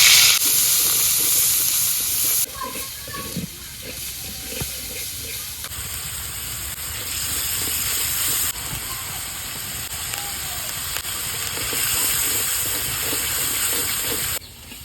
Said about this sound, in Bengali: পেঁয়াজ রসুন বাটা দিয়ে দিলাম। তেল গরম হয়ে গেছে।